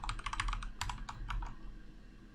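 Fast bursts of close computer keyboard keystrokes as a password goes in, clustered in quick runs and then trailing off, with no voices over it.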